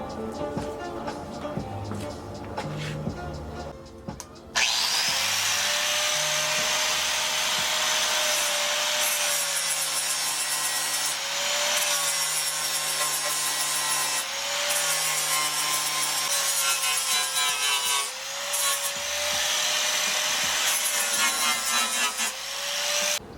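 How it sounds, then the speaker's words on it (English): An abrasive grinder works down filled holes in a minitruck's shaved engine bay sheet metal, a loud steady rasping whine running almost continuously with slight pitch dips, after a few seconds of quieter clinks and handling. "Now that we have all the holes grinded down"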